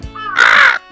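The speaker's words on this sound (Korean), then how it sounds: "밤에 까마귀들이 울기 시작한 때" A crow gives one loud, harsh caw at night, close by and alone, with a faint second call starting at the very end.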